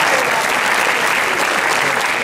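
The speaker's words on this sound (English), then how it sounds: "Give him a round of applause." An audience at a political rally breaks into a dense, steady burst of clapping, loud and close, filling the whole moment with a brief voice barely showing underneath.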